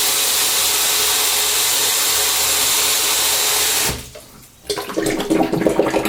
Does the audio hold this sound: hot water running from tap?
yes